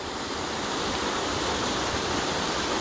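A steady, loud roar of a waterfall crashing into a splash pool, continuous and unbroken with no voices.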